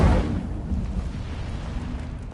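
Incendio fire spell cast in Hogwarts Legacy, a sudden low whooshing burst that fades into a dull, rumbling roar, close and fairly loud.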